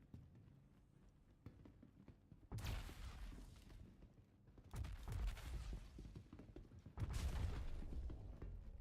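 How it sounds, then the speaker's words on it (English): Explosions in the Star Citizen Arena Commander space combat game: three loud, sudden broadband blasts with rumbling tails, set apart by a few seconds over a quiet low background, with no talking. "there's like a big explosion going on up here"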